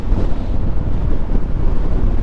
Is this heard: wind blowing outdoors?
yes